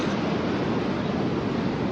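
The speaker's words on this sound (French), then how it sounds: "en train d'essayer de profiter du calme et du bruit des vagues" Ocean waves wash steadily onto the shore at Tanah Lot, Bali, as a continuous broad rushing surf noise, close and even throughout, with no voices.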